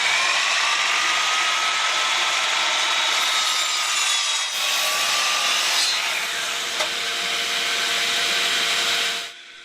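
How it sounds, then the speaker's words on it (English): Miter saw cutting cedar 2x4 trim, a loud, steady high whine of the spinning blade biting through wood for several seconds before stopping abruptly. "I started by cutting the 2 vertical pieces out of a block I'd cut square on each end using the miter saw"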